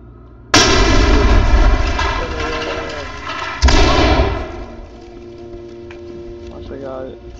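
A flashbang grenade in the tactical shooter game Ready or Not goes off with a sharp, loud blast, followed a few seconds later by a second heavy bang. Each decays into a long ringing tail, and voices come in near the end.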